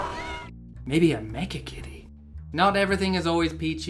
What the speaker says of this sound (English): That was definitely a cat.